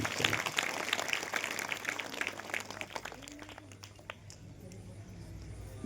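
An audience claps in applause, a loud dense patter of hands up close that gradually thins and fades over several seconds.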